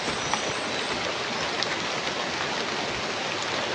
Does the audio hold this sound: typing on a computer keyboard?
no